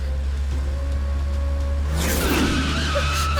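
Car on a mountain road with an engine hum, then a sharp, loud tyre skid and squeal as the hand brake is pulled, rising near the end over a steady rumble.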